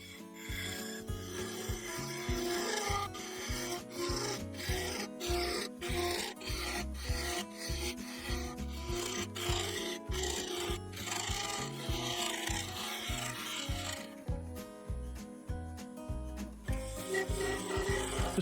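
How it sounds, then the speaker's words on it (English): A sapele vase base spins on a woodturning lathe while a skew chisel and a bowl gouge shape it. Steady, rhythmic rasping and scraping continues close up throughout, with no talk. "The skew chisel squared up the edge of the base, then I thinned it down a bit more with a bowl gouge"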